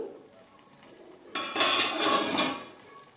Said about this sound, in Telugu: ఈ క్యారెట్ కింద అడుగంటకుండా మధ్య మధ్యలో ఇలా కలుపుకోవాలి